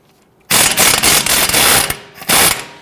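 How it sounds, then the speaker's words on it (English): A ratchet on a 17mm socket loosens a strut nut on a 2012-2019 Fiat 500, giving loud, close, rapid clicking in two quick bursts after a short quiet start. "Using a 17mm socket, I want to go ahead and loosen and remove the nut here on our strut bolt."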